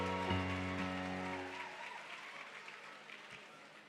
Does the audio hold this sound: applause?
yes